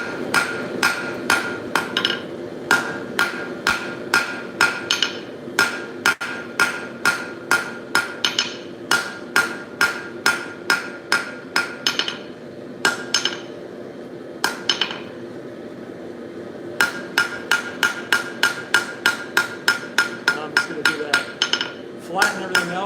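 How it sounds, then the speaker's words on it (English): Controlled hammer hits on metal while flattening and shaping work, sharp ringing strikes in quick rhythmic bursts separated by short pauses, close and loud. "I'm choked up on a hammer, just really trying to make nice controlled hits"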